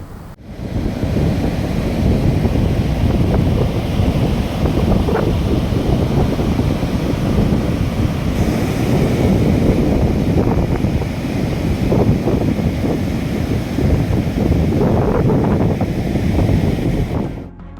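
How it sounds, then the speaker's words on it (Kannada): Heavy waves whipped up by Cyclone Biparjoy crash against rocks along the seashore, a continuous roaring surge mixed with strong gusting wind buffeting the microphone, loud and close with no voices. "ಭಾರೀ ಗಾತ್ರದ ಅಲೆಗಳು ಸಮುದ್ರದ ಅಂಚಿನ ಬಂಡೆಗಲ್ಲುಗಳಿಗೆ ವೇಗದಿಂದ ಬಂದು ಅಪ್ಪಳಿಸುತ್ತಿರುವ ದೃಶ್ಯ ಕಂಡುಬರುತ್ತಿವೆ"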